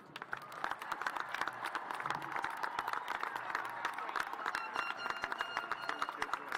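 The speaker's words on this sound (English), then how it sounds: "Let's give them a round of applause." Crowd at a high school graduation ceremony claps steadily for several seconds, a dense, moderately distant patter of many hands that stays even throughout.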